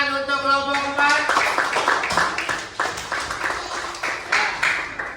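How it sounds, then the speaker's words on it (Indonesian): Classroom applause for a student group, a burst of clapping hands with some voices mixed in, following a short sustained tone at the start. "tepuk tangan untuk kelompok 4"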